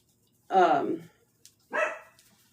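A dog barks twice nearby, loud and sharp, with a short pause between the two barks and near silence around them.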